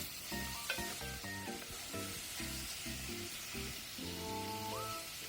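Food sizzling steadily in a pan while being stirred, with a continuous frying hiss and rhythmic clattering scrapes of the utensil across the pan, close and fairly loud, no voices.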